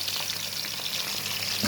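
Minced meat sizzles in a pan with onion, a steady close frying hiss with soft crackles and no voices.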